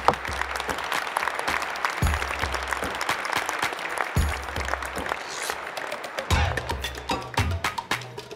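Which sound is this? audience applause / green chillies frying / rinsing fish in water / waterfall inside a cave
audience applause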